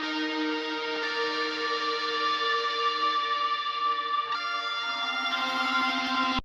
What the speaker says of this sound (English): it's just super atmospheric, just a lot of reverb, delay